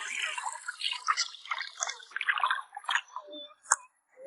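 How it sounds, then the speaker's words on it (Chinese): Fish slices are rinsed by hand in a basin of water in a home kitchen, making soft splashing, squishing and dripping sounds in an uneven patter, quiet and close. "鱼片也洗一下。"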